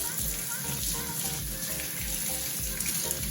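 Tap water running steadily into a sink while a reusable AeroGarden seed pod is rinsed, close continuous splashing and gurgling.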